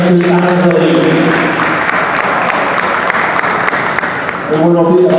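Loud, sustained audience applause fills an opening ceremony for the Pan Am Masters 2016 in Puerto Rico, with tonal music or a voice emerging at the start and again near the end.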